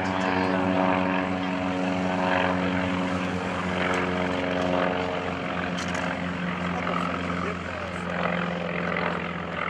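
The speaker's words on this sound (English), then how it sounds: "being followed into the sky by the FM2 Wildcat" Two World War II warbirds, an SB2C Helldiver and an FM2 Wildcat, drone loudly overhead at an air show open house, their propeller engines a steady harmonic roar that swells and eases slightly throughout, with a faint announcer's voice underneath.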